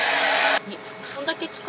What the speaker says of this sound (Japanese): 1200ワットぐらい今ドライヤーで使ったけど全然平気だ ね